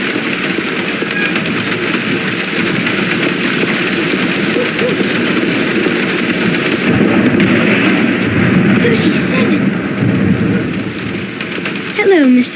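Rain and thunder in the adventure game The Black Mirror: a loud, continuous downpour wash with a deeper rolling swell of thunder in the middle, ending with a faint high tone.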